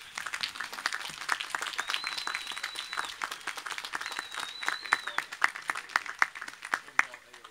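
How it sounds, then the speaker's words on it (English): Sustained applause from a large crowd at a university commencement, dense overlapping clapping with a few sharper claps standing out, and a faint whistle in the mix. "let's give a round of applause for these graduates"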